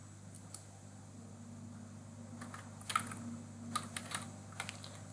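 Typing on a computer keyboard while building an accounting sheet in Google Sheets: a quiet, close run of light key taps in small clusters over a steady low hum.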